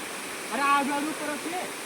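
Jakeda waterfall in Nayagarh roars as a steady broadband wash of falling water, with a voice briefly audible over it.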